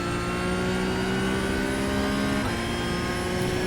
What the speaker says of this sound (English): we're just full throttle here through this whole next section